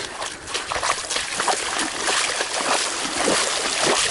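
Feet wade through shallow water along the Florida Trail in Big Cypress, the sloshing and trickling splashes coming in uneven surges, close and fairly loud.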